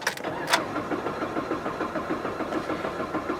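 A Jeep Patriot with a fault that stops it from starting cranks after the key is turned, a steady rhythmic churning from the engine bay that never catches and runs close for several seconds.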